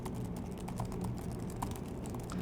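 Soft, rapid key taps from a compact Logitech tablet keyboard case click irregularly, close by and fairly quiet, with no talking.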